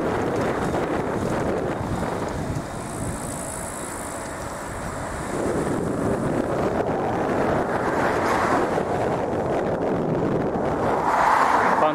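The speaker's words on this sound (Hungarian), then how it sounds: "Itt folyik a folyó." A small mountain creek flows in the Low Tatras near Donovaly, a steady broadband rush of water mixed with gusty wind buffeting the microphone, with no voices.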